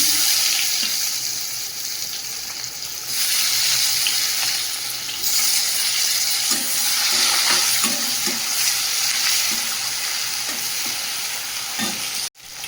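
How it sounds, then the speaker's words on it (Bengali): Whole cumin seeds and chopped onion hiss and crackle in hot oil in a kadai, a steady broadband sizzle with scattered pops and stirring clicks, fairly close, ending in a sharp clack. "তেলের মধ্যে দিয়ে দেবো গোটা জিরে, দিয়ে দেবো পেঁয়াজ কুচি"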